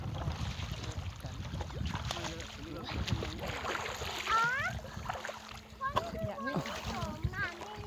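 Splashing in cool freshwater river water at a dam reservoir in northeast Thailand, with steady churning and sloshing throughout while adults and children talk and call over it, and a faint wind in the background.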